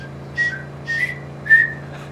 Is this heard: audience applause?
no